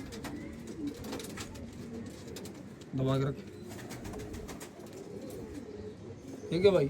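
Lightweight full parel pigeons coo in low, throaty bursts close by, one longer coo standing out midway, while someone talks briefly over them.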